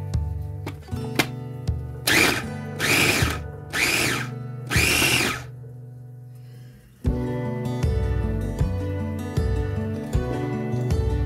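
Food processor or blender whizzing chopped roast pork ingredients, three loud roaring bursts of a few seconds each, then a busier, lower whirring run that continues to the end.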